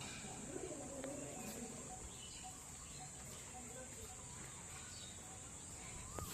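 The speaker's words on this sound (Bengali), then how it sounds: "এখানে বেশিরভাগই পায়রার বকবকাম আর পাখিদের কিচিরমিচিরই শোনা যাচ্ছে।" Pigeons cooing and small birds chirping at a Kali temple complex in Simjuri, Chittaranjan, faint and distant over a steady ambient hiss, with soft scattered calls throughout.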